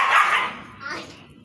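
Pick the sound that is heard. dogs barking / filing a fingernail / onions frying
dogs barking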